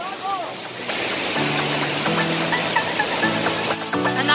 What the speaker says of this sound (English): And that's where the waterfall goes over, right there.